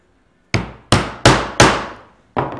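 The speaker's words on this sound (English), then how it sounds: "give it a whack with a hammer." A hammer strikes a metal T-nut into wood four times in quick succession, each sharp ringing blow decaying, followed by a fifth lighter tap after a pause.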